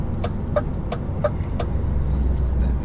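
Cars, caravans, motorbikes, trucks and buses roll off a ferry, a steady low engine rumble with a regular series of light clunks as wheels pass over the ramp.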